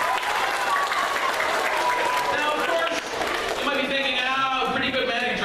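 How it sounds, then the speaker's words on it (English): Audience applause during a middle school magic show, a steady mass of clapping with children's voices and chatter running through it. "everybody give her a nice big clap"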